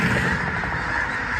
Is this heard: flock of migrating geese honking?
yes